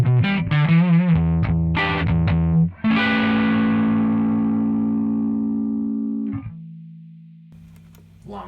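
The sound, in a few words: Rockman Stereo Chorus baseline guitar sound, mono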